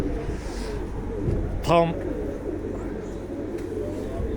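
Pigeons give a brief, close coo partway through, heard over steady outdoor background noise while people talk nearby.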